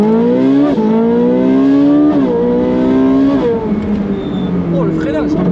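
Ferrari 458 Speciale naturally aspirated V8 revving hard: loud, close, high-pitched wails that climb through several quick surges, with someone talking over the engine.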